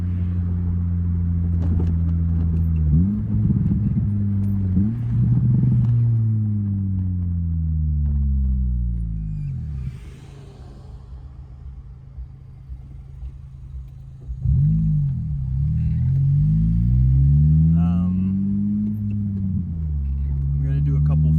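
Acura RSX DC5 fitted with an Invidia N1 catback exhaust, revved hard to redline in first gear: loud, close engine roar with rising and falling rev sweeps, a brief settle near idle, then another surge of revving.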